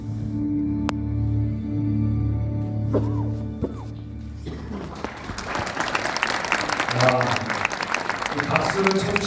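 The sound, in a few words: church audience applauding at new family night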